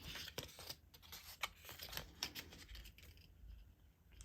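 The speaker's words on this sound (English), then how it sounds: "I'm going to tape this edge here to the back side of the cardboard" Tape being pulled and pressed along the edge of a cardboard piece for a homemade golf training aid, a run of close, crackly strips and taps at an uneven pace, with no talk.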